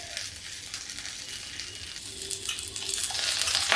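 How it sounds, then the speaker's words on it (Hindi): Parwal frying in a pan over high gas makes a constant close sizzle with light stirring scrapes, swelling slightly louder toward the end. "अब इसको थोड़ा सा ऐसे ही फ्राई कर लेंगे।"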